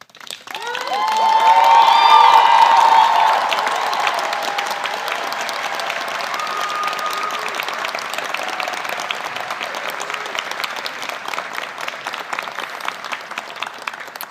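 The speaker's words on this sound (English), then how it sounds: "please join me in congratulating once more our graduates with a thunderous round of applause" Sustained audience applause with some cheering at a medical school commencement ceremony, swelling loudly at first and then holding steady as a large crowd claps continuously.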